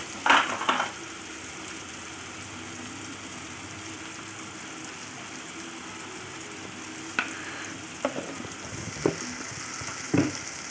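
Tomato rice sizzles and fries steadily in a pan while a spoon stirs it, with a few louder scraping clinks at the start and near the end and no talking.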